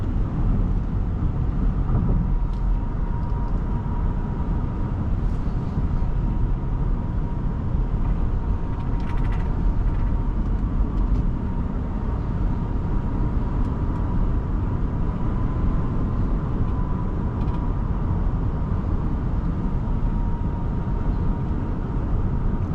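A 2023 Rivian R1T Adventure Quad Motor electric pickup cruising in sport mode, heard from inside the cabin as a steady, continuous low road and tire rumble with faint wind noise and a soft whine, no talking.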